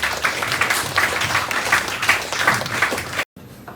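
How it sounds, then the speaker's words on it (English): Audience applause greets a guest speaker at a campus placement seminar, a dense, steady wash of clapping that holds for about three seconds before cutting off abruptly into near silence. "Let's give him a big round of applause as we begin."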